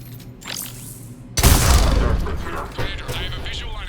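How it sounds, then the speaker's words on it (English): Heavy cannon fire in the video game Mass Effect 3: a loud, booming blast lands about a third of the way in and rolls into sustained roaring, explosive rumble, with quieter battle noise before it. "Cannon fire is clearing the way."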